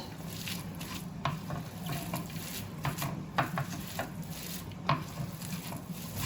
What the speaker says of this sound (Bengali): এবার এগুলো দিয়ে খুব ভালো করে আমি মেখে নেব।